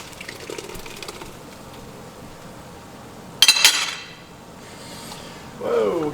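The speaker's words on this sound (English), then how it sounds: "So, transferring it to the sieve." Hatch New Mexico red chile sauce poured into a sieve in a home kitchen, a brief wet splashing pour with a metallic clink midway, fainter liquid sounds after, over quiet room noise.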